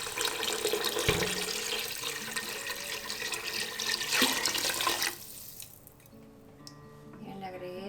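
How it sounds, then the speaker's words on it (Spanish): Tap water pours steadily into a pot of browned pasta for noodle soup with spinach, a loud rushing stream that cuts off, leaving quieter kitchen sounds and a voice in the background. "ya le voy a agregar el agua"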